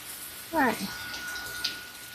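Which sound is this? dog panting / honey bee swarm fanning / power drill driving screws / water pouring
water pouring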